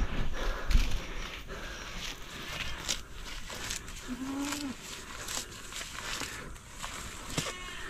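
A goat on a rural Filipino farm during heavy rain gives a short bleat-like call midway, set among scattered footsteps, clatter and steady outdoor background noise.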